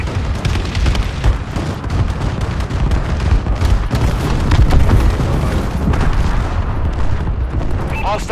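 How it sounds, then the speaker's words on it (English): Enemy bombing-run explosions in a multiplayer shooter game make dense, continuous rumbling booms and blasts with scattered gunfire, loud and sustained throughout. "enemy bombing run incoming"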